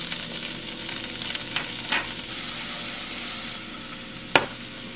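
Chopped yellow onion frying in a little oil in a pan, a steady soft sizzle with a few light stirring scrapes and one sharp clink near the end.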